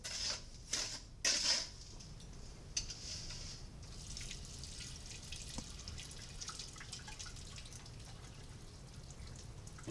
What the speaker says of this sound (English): Add water again to cover it. Continue agitating and decanting over your sieves.